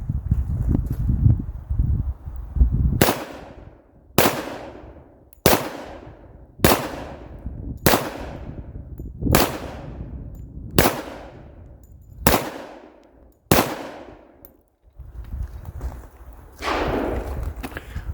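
Shots from a Smith & Wesson M&P 2.0 10mm Performance Center pistol, about nine sharp, loud reports in an uneven, rapid-to-measured sequence, each with a ringing decay, preceded by handling noise.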